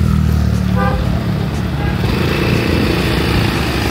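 Yamaha X-Max motorcycle fitted with a sidecar, its engine running steadily and loud throughout, with a brief horn-like tone and traffic noise in an urban street setting.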